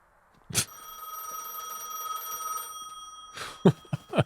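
A telephone rings in the Gas Station Simulator video game, one sustained electronic bell tone lasting about two seconds, framed by sharp clicks and thumps.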